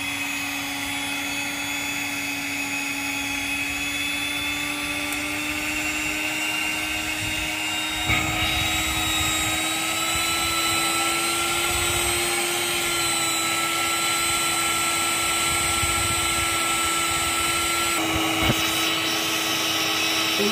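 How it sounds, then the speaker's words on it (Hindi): An electric cake mixer beats cream batter with a steady, loud motor whine and a constant high hum that runs on unbroken, with slight shifts in pitch as the beaters move. "अब हम मशीन से इसको मिक्स करेंगे।"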